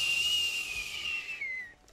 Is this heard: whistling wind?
yes